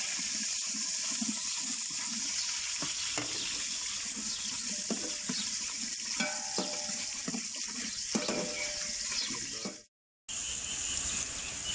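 Sliced onions fry steadily in hot oil for chicken pulao, a continuous even sizzle and hiss close up with faint clinks, no talk.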